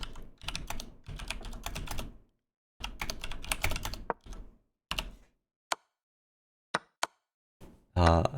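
Bursts of fast typing on a computer keyboard during an online chess.com bughouse match, several clattering runs of keystrokes separated by pauses, then a few isolated taps near the end.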